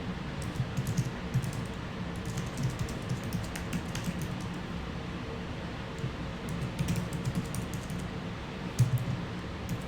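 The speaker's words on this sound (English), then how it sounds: "I was typing a sentence." Computer keyboard typing during a live ink-drawing stream, a fast run of close, dry key clicks in irregular bursts that continues steadily for about ten seconds, with no talking over it.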